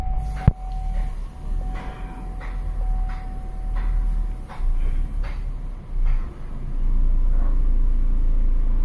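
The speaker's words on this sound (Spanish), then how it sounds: "vamos a arrancar el vehículo" A Chevrolet Spark engine, under diagnosis for a throttle fault, cranks and catches with a sharp start, then runs at a steady low idle with intermittent clicks and ticks, the hum swelling louder toward the end.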